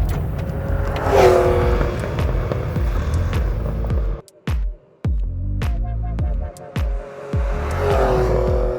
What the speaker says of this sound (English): you hear the engine start to get cranky